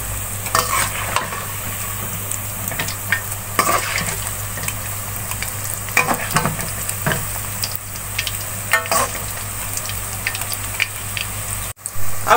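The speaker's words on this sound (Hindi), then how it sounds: "अब इनको इस तरह दूसरी साइड इनकी फ्राई कर लेंगे।" Beef kofta fry in oil with a steady close sizzle and crackle, broken by occasional stirring and turning clinks throughout.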